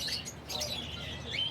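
A green ringneck parrot in a pet shop gives a brief burst of high, thin chirps, fairly faint against low background noise.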